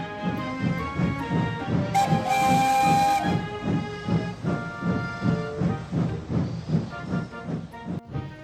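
Steam engine whistle blowing in a steady sustained tone over rhythmic chuffing and hissing steam, clear and fairly close, with no talking.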